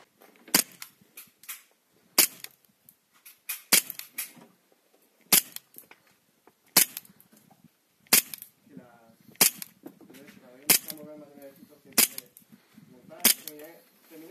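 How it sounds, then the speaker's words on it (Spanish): Cybergun Colt 1911 M45A1 Railgun airsoft pistol fired during chronograph and shooting tests, about a dozen sharp single cracks spaced a second or so apart, close and loud, with faint mechanical rattles between shots. "Vamos a pasar a hacer pase de crono y pruebas de tiro."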